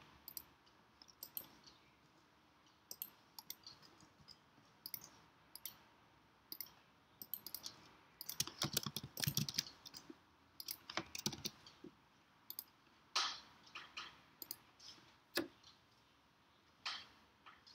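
Scattered computer mouse clicks, single and in short quick bursts, as a web form is filled in and submitted in Joget Workflow v5 business software, close and fairly quiet over a soft background hiss, with no talking.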